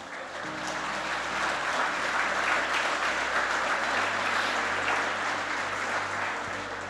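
A church congregation at a sermon breaks into loud, sustained clapping for the Lord, dense and continuous across the hall, with a low hum and steady tones underneath.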